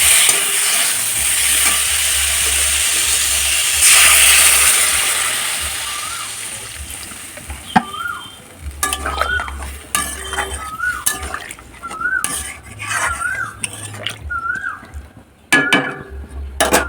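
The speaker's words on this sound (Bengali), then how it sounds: "আপাতত আমি মাছের ঝোলটা করছি" Fish curry cooks in a pan at home, oil hissing and splattering while a spoon scrapes and stirs, with clinks of utensils and short tonal chirps partway through; the sizzle is loudest early, then becomes more broken and intermittent.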